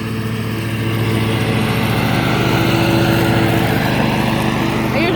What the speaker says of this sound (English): he's going to mow this out, and then I'm going to trim